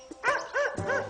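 A dog gives three quick yapping barks in a tight, even rhythm, close and fairly loud, alone without talk.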